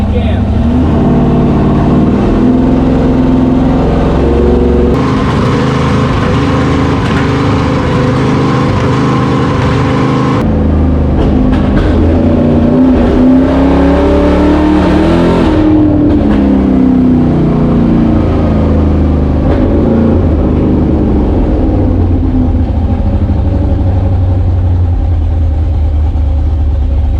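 A 1955 Chevrolet Bel Air engine fitted with stacks and new injectors revs hard, loud and close, its pitch rising and falling through several throttle blips, with someone talking over it.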